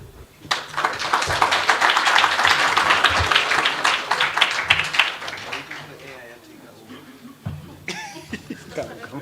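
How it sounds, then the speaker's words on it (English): Dense, loud applause from an audience at the launch of the Public Service & Commercial Union of South Africa, swelling for several seconds with a few coughs, then fading into scattered claps and murmuring before a brief final burst. "can we give her a round of applause again?"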